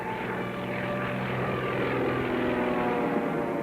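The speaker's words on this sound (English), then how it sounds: "Wave at those planes." Propeller airplanes fly overhead above a submarine crew in a wartime setting, a steady, loud droning engine roar that holds throughout without fading.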